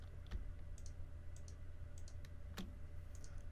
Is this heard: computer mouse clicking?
yes